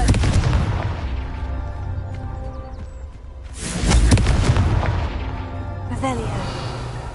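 A fiery Confringo blasting spell explodes in Hogwarts Legacy, a deep booming burst rising mid-clip over steady rumbling game sound, with a voice talking at points.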